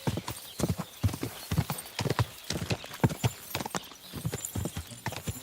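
Horse hooves clip-clopping in the video game Kingdom Come: Deliverance II, a brisk, steady trot of close, crisp hoofbeats with faint gear noise beneath and no talk.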